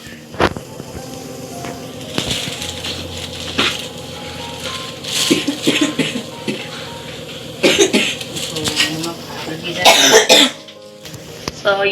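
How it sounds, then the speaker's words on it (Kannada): Family members at home coughing and clearing their throats, several rough bursts scattered through the clip with kitchen clatter and some talk in the background, on a windy, rainy Sunday. "ಇಡೀ ಮನೆಯವರಿಗೆ ಫುಲ್ ಕೆಮ್ಮು"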